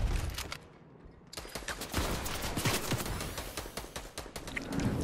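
Gunfire in Fortnite comes as rapid bursts of shots, fairly faint and repeated over several seconds.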